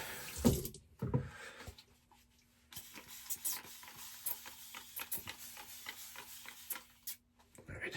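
Tap water trickles into a shaving soap base, with a few short splashes at the start and then soft, intermittent wet dabbing and swirling sounds, close and quiet, with no talking.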